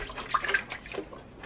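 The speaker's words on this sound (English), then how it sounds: "Just put a little bit of water and pour it there" Water poured into a pot to rinse out leftover curry paste while making Indian chicken curry, a soft, close splashing and trickling that runs steadily for a second or so with no talk.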